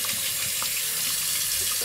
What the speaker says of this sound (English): I always keep my razor blades up under hot water.